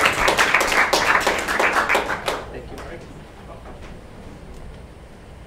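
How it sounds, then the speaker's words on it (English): An audience at a Startup Grind event in Bratislava gives a quick round of applause as a guest is welcomed onto the stage, a dense burst of clapping that fades out after about two seconds, leaving a quiet room. "Please, round of clap. Round of applause."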